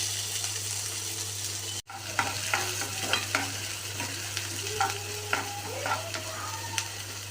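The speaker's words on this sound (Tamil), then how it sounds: "பேன் ஹீட் ஆனதும் பொடிசாக நறுக்கின வெங்காயத்தை போட்டுக்கோங்க." Finely chopped onions hit hot oil in a pan and sizzle steadily, with a sharp clatter at the start and then intermittent stirring clicks and scrapes over the constant frying hiss.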